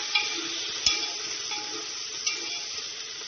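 Curry leaves being stirred into beef curry frying in a pan, a steady hiss of sizzling oil with a few sharp spoon knocks against the metal, close up and with no speech.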